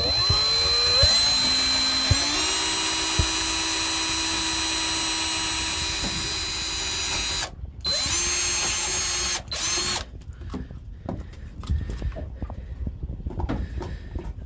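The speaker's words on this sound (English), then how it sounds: "I'm going to try and drill this with my left hand so I can video it." A power drill drills holes in a catamaran engine bay, running in long steady whining bursts that rise in pitch, then stopping and starting in short runs, close and loud.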